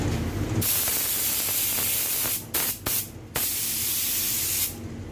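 Paint spray gun spraying in bursts during a one-visit paint application, a loud continuous hiss with several brief cutoffs and a final stop.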